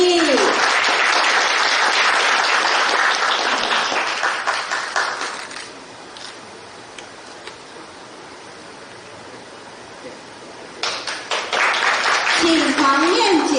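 An audience applauds at a police award ceremony honouring officers who caught a credit cooperative robber in Changhua: loud clapping under a speaking voice fades away, then swells again before speech resumes.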